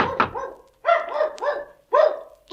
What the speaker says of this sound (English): that sounds like Mickey barking